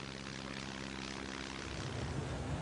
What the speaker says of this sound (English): This particular object turned out to be an advertising plane,